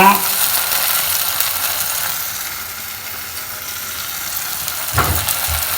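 Okra pieces sizzling in a hot frying pan while cooking bendakaya pulusu, a steady loud hiss of frying throughout with a brief stirring scrape near the end.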